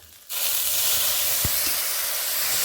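Water hits a hot pan of frying spice paste of turmeric, coriander and chilli powder, bursting into a loud, sustained hissing sizzle after a brief quiet moment, with a faint clink midway.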